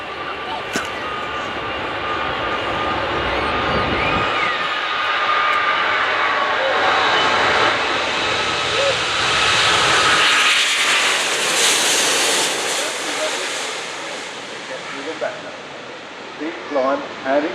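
Airbus A380 airliner at the Farnborough Air Show accelerating down the runway on its takeoff run, a loud, sustained broad engine roar that swells and holds, with a commentator talking over it.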